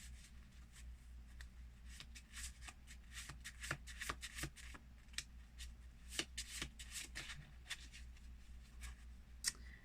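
Tarot manifestation cards shuffled by hand in a quiet room, a long run of soft riffling flicks and papery slaps in an irregular rhythm, close but faint over a low steady hum, no talk.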